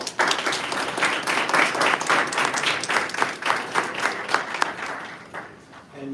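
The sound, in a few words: audience applause for the Congresswoman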